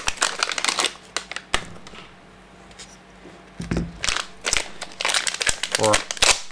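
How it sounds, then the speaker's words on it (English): Packaging around two 300 watt buck boost converter circuit boards is torn open, giving close, loud crinkling and crackling bursts in several spurts, with a quieter stretch in the middle. "And let's tear them open."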